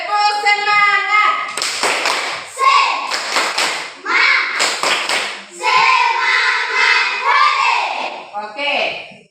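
Schoolchildren in a classroom perform a rhythmic spirit clap, loud grouped bursts of sharp hand claps between chanted children's voices, repeating in a patterned sequence.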